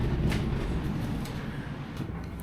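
The Eiger Express tram carries passengers up the mountain, giving off a steady low rumbling hum with faint rattles and no clear talk.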